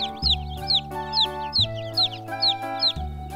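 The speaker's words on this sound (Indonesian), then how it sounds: "Ada ayam warna-warni" Colourful chickens cluck in short repeated bursts, about seven quick calls in a regular rhythm, close and clear over a low steady hum, with no talking.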